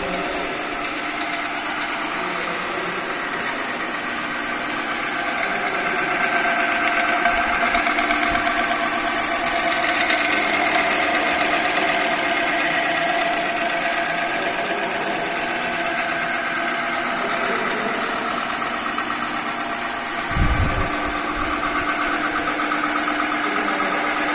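A wear test machine runs at about 500 RPM in a lab, giving a steady, fairly loud mechanical hum that holds constant throughout, with a brief low thump near the end.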